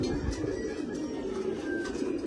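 Pigeons, including blue-coat birds, give low, rolling coos that repeat steadily close by, with no one talking.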